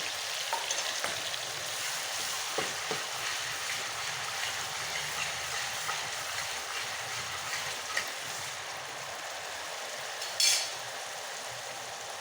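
Spice pastes of green chili and cumin fry in a pan for mustard hilsa, giving a steady dense sizzle with occasional soft stirring scrapes and a brief louder clatter late on.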